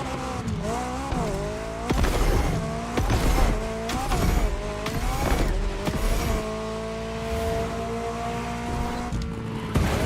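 A BMW M5 Drift Edition drifting in The Crew Motorfest racing game, its engine revving up and down in wavering surges with tire squeal and skidding noise, loud and continuous throughout with no talking.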